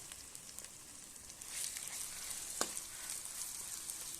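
Small onions sautéing in a pan for a village-style dried fish curry cooked in a clay pot, a soft, quiet sizzle that swells slightly midway, with a few faint scrapes and one brief pop.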